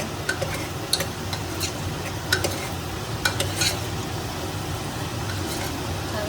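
Bay leaf, cardamom and cinnamon sizzle in hot oil for a Malvani mutton rassa, a steady close frying hiss with occasional light clinks of stirring and no talking.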